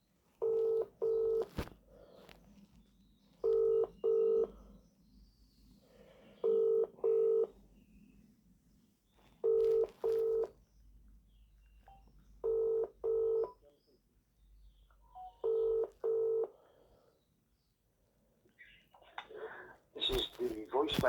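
A telephone call being dialed on a keypad, heard as paired touch-tone beeps in a steady rhythm, loud and close, followed by a brief rustle at the end.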